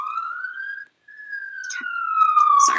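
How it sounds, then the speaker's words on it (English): An ambulance siren on a city street wails in one long, slowly falling sweep after a short rising tone, loud and clear, with a brief hiss of noise near the end. "I think there's an ambulance behind me"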